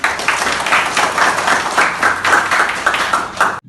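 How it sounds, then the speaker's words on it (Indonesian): A classroom full of people clap together in a dense, steady burst of applause that stops abruptly. "berikan tepuk tangan."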